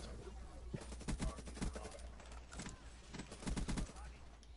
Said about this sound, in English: This HLX shoots so fast